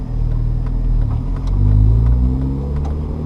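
A manual-transmission car pulls away from a stop on a residential street, its engine rumbling low and rising steadily in pitch as it accelerates in first gear, with a faint brief dip around a clutch change; close and continuous, no talk.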